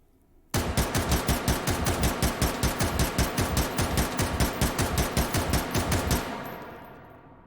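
A Mini-14 rifle fitted with a muzzle brake fires in the virtual reality game H3VR, about thirty rapid semi-automatic shots in an even, fast rhythm lasting roughly six seconds, loud and close, ending in a short fading echo.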